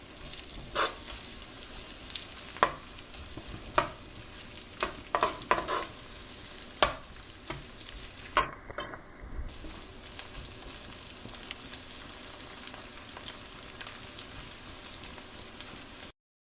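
Onions softening with ginger-garlic paste for bitter gourd masala fry quietly in a pan, a low steady sizzle broken by scattered scrapes and clicks of a spoon stirring, with the sizzle fading out near the end.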